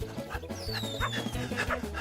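A small dog yips and barks in quick short bursts, fairly close, over a steady low background hum.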